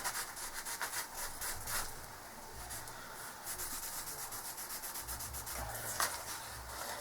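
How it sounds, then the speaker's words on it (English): A paper fold on a pop-up card is rubbed and polished with a tool, producing close, soft, repeated scratchy rubbing strokes in a steady back-and-forth rhythm. "I'm polishing it and setting it in."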